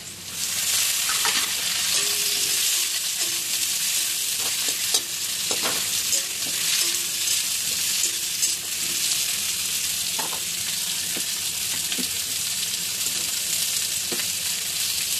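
Potatoes and onions fry in a pan with chopped tomatoes added, giving a loud, steady sizzle throughout with intermittent stirring scrapes and clicks from a utensil, and no talking.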